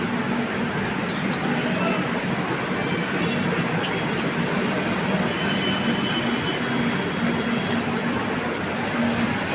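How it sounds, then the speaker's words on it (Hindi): The Veer Bhumi Express runs steadily, a dense, loud rolling rumble with rail noise and faint rhythmic clatter, continuous and close, with a voice speaking faintly underneath. "ये हमारी वीर भूमि एक्सप्रेस चल रही है"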